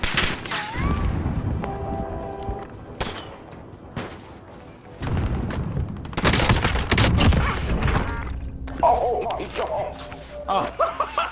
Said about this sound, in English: That's why I'm running this shotgun